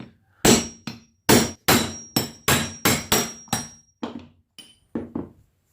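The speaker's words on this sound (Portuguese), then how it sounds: "Para fazer a remoção do retentor antigo, eu vou usar uma soquete 32 mm e bater dessa maneira aqui." About a dozen sharp metallic blows from a hammer striking a 32 mm socket to drive out an old seal on a Volkswagen Beetle, landing in a quick, uneven rhythm close up.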